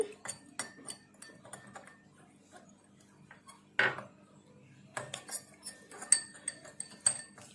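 Light clinking and tapping of a utensil stirring toothpaste in a glass of water, irregular and quiet, pausing briefly before resuming in a cluster of small ticks.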